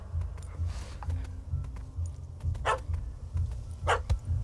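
Dog barking in the video game Witcher 3: Hearts of Stone, a few sharp barks sounding at mid distance over a low rumbling game ambience and background music.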